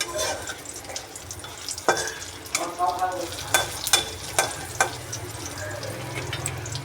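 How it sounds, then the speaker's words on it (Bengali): Green chillies and mustard seeds spluttering in hot oil in a pan, a crackling sizzle with sharp irregular pops and stirring scrapes, fairly close, no talk. "লঙ্কাটা একটু ভাজা ভাজা হবে।"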